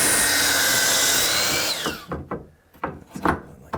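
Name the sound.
power tool cutting a hardwood flooring piece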